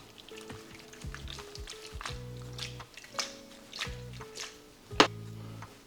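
Creamy carbonara sauce of egg and cheese is stirred around a pan as it cools and thickens, giving soft wet squishes, drips and light scraping taps at close range, with a sharper clack near the end.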